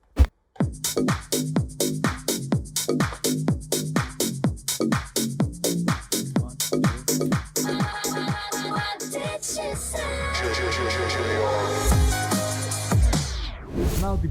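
On a DDJ-400 controller, a beat-driven track is cut into an echo effect whose repeats trail off as a second song at a different tempo drops in, the mix staying loud and rhythmic throughout.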